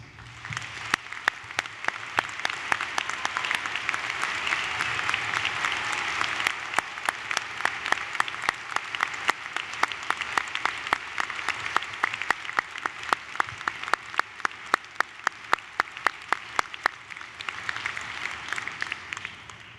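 Warm, sustained applause from a large graduation audience honoring military family members and veterans, a dense steady wash of clapping that swells and holds throughout with individual sharp claps standing out near the microphone.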